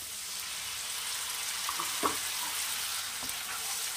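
Tomato paste cooking into an egg dish over low heat gives a soft, continuous sizzle and gentle frying hiss, with a couple of faint stirring taps.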